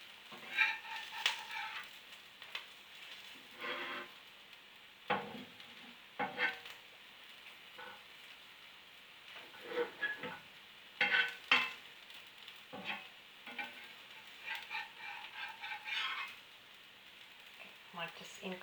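A rava dosa cooks in a hot pan, sizzling and crackling softly with intermittent stirring and scraping sounds. Faint bird crowing occurs in the background, and brief bursts rise and fall over a quiet base.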